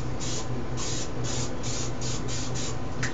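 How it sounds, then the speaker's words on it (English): Cooking spray from an aerosol can hisses into a big blue bowl in several short bursts, with roughly eight close, steady sprays in a rhythmic series and brief gaps between them. "that's a cooking spray. I'm going to spray this up real good here."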